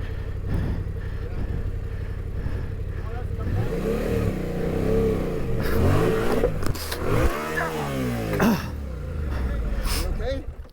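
A Yamaha T7 adventure motorcycle revving as it is ridden across a sloppy, wet crossing, the engine rising and falling in loud surges over steady wind noise.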